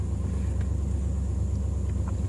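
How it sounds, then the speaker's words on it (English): A 1990 Cadillac Coupe DeVille idling just after starting, a steady low engine rumble with even pulsing, close and continuous, with faint small clicks over it. "So the car has no issues starting up. Starts up every time."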